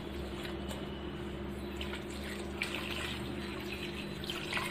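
Water is poured onto spiced, marinated chicken pieces in a bowl. A soft, continuous splashing and trickling stays close and moderately quiet, with small squishy splashes and no voices.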